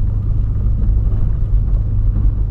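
A Volkswagen Polo accelerates hard, its engine giving a deep, steady rumbling drone heard from inside the car, with no talk over it.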